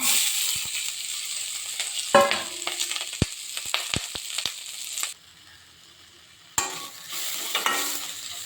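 Green beans tossed with curry leaves in a hot pan, crackling sizzle with repeated sharp stirring scrapes and knocks, close and busy, dropping to near quiet for a moment before the frying resumes.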